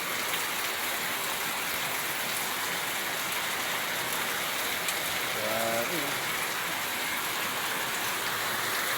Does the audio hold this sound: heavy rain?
yes